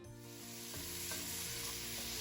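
Garlic added to a sofrito for Cuban-style meatloaf sizzles steadily in a hot pan, a continuous close frying crackle with a faint stir partway through.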